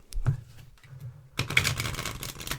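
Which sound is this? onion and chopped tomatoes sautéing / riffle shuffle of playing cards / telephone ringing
riffle shuffle of playing cards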